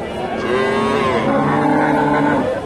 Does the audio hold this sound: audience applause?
no